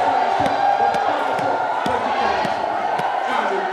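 Church congregation at a Palm Sunday service in M'Brou shouts acclamations and cheers in a loud, continuous crowd roar, with regular thumping beats pulsing underneath.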